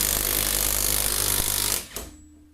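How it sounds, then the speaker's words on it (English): A RUYIKA 21V 460Nm cordless impact wrench hammers continuously at close range, a loud dense rattling burst that cuts off abruptly near the end and leaves a faint hum. "it will carry on hammering until it starts releasing"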